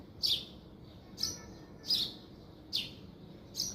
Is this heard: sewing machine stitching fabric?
no